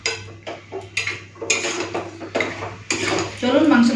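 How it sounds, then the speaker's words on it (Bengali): Mutton is stir-fried in a pan with a metal spatula, making repeated close scraping and clanking strokes in an uneven rhythm over a light sizzle. "মাংসটা কষে নি"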